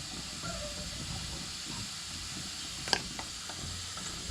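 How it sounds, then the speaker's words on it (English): Steady hissing rumble of water boiling in a large canning pot, constant and close, with a single sharp clink partway through as jars are added. "And of course it stops boiling as we're adding them"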